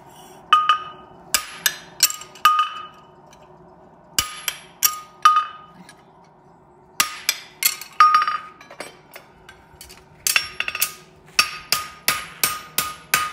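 Sharp ringing hammer blows on an anvil while shaping a hot concave steel horseshoe, delivered in quick rhythmic runs of strikes with short pauses between them, loud and close.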